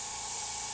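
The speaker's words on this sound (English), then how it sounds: "I'm just spraying air before I pull the trigger." An airbrush hisses a steady, even stream of air with the trigger not yet pulled, a continuous close spray sound with no talking.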